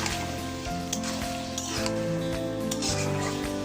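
Beef braising and frying in a pan for a home-style Bengali beef curry, giving a steady, close sizzle with faint stirring clinks and no talk.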